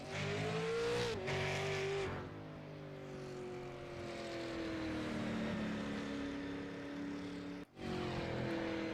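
A super late model race car running a qualifying lap on an oval track, its engine droning loud and steady with a rising and falling pitch as it circles, fading briefly before surging back.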